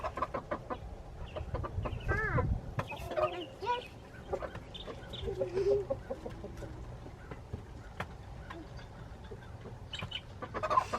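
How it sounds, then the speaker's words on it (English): Small chicks cheep in soft, high, repeated peeps against a busy background of clucking fowl and household sounds, with quiet voices talking at times. "That one's cheeping."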